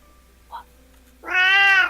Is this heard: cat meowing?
yes